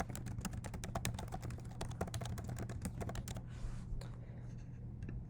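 Rapid, steady keystrokes on a computer keyboard, close and continuous for several seconds, clattering over a low background hum before trailing off near the end.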